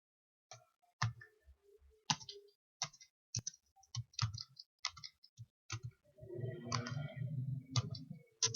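Keyboard keys clicking in irregular bursts as a customer name is entered into furniture company sales software, crisp and close, with denser rapid typing toward the end.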